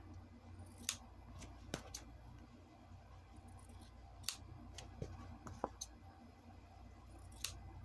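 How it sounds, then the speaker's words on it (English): Scissors snip through journal cover material in a quiet room, a series of crisp, separate cuts at irregular intervals, close and fairly faint. "I think I'll cut it just a tad, and just like that"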